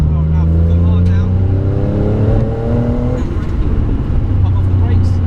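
A 650bhp Nissan GT-R accelerates hard on a race track, engine note climbing through the revs in a loud, close drone, with an instructor's voice talking over it.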